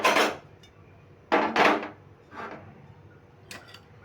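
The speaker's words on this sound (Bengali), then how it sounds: "আর একটা কড়াই বসিয়ে দিলাম" A kadai is set down on a gas stove in a home kitchen, a few sharp metallic clanks and knocks close by, separated by short quiet gaps.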